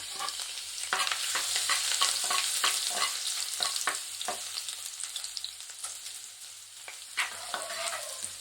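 Garlic and ginger fry in hot oil with mustard seeds already popped, a steady close sizzle with scattered crackles and pops and occasional stirring clinks, continuing with no talk throughout.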